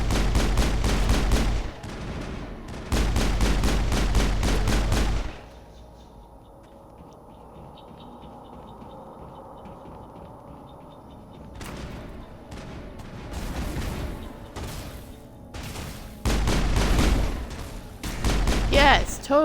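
Rapid bursts of sci-fi rifle gunfire from the Mass Effect video game, loud and close, come in several sustained volleys separated by a quieter stretch of combat ambience.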